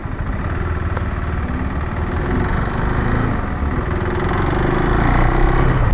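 KTM 390 Adventure R motorcycle pulling away in first gear, a steady close single-cylinder engine drone that builds slightly in loudness through to the end, with no talk.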